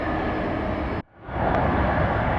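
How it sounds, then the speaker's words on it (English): Boeing 717 airliner at Atlanta Hartsfield-Jackson airport, a twin-jet of DC-9 lineage: a steady, loud broadband jet roar that cuts out abruptly for a moment, then swells back to full strength. "The passengers on board this Boeing 717 here, it's the, what is it, DC-9, I believe."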